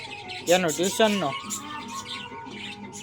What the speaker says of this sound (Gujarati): આ બાજુ જો ચકલાનો અવાજ આવે.